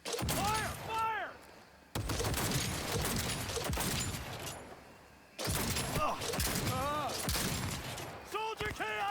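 Bursts of rapid gunfire from the video game Cyberpunk 2077 fill a chaotic firefight, loud sustained volleys broken by a brief lull and then resuming, with shouting voices over the shots.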